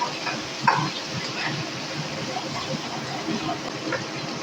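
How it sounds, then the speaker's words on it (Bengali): Spiced katla fish roe dhoka masala is stirred in a pan: a steady low sizzle runs throughout, broken by soft scraping and stirring strokes, with one sharper clink near the start. "ঢাকনাটা তুলে আবারও আমি একটু নেড়ে চেড়ে নেব"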